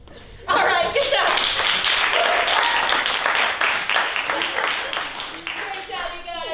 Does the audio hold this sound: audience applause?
yes